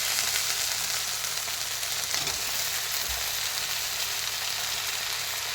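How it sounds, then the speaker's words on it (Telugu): Sliced eggplant fries in a pan of tomato curry in a Godavari-style dried fish and eggplant dish, giving a loud continuous sizzle close up with an occasional soft stir, without talking. "ఇప్పుడు మనం కోసుకున్న వంకాయల్ని కూరలో వేసుకుందాం."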